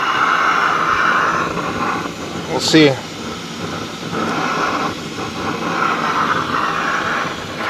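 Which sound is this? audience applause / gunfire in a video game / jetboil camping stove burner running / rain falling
jetboil camping stove burner running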